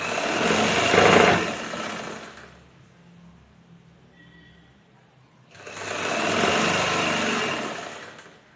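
A sewing machine stitches a folded saree hem in two loud bursts, with a quiet pause of a few seconds between them.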